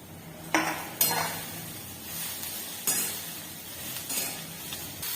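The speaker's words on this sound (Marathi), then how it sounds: "आपण ही चिरलेली भाजी त्यामध्ये टाकणार आहे" Chopped wild greens tossed into browned fried onions in a pan: a few distinct clinks and scrapes of a stirring spoon against metal over a faint sizzle, fairly quiet with no talking.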